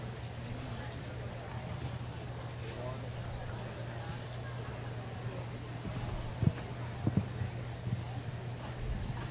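Faint, soft clip-clop of Thoroughbred show jumpers' hooves at a distance under a steady low hum, with a few sharper thuds near the end as horses clear fences.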